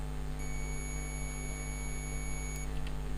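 A multimeter in continuity mode gives a steady, thin electronic beep tone over a loud constant hum, held for about two seconds during testing of an induction oven cord, with no talk.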